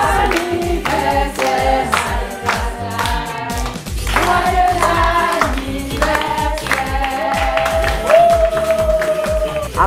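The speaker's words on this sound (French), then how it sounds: "nous allons faire entrer le magnifique gâteau et ça mérite des applaudissements" A birthday party audience claps steadily and rhythmically as the cake is carried in, the sharp claps running loud and continuous over music.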